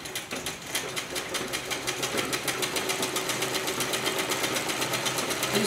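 Sewing machine stitching a dhoti salwar, a steady fast mechanical rattle of the needle running continuously at an even pace, close and loud with no talking.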